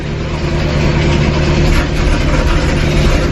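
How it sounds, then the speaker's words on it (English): A Coyote-swapped 1968 Mustang Fastback of about 1200 horsepower, running on E85, idles loud and close with a deep, steady rumble and no pauses. "let's go ahead and fire up good old 1200 horsepower Miley"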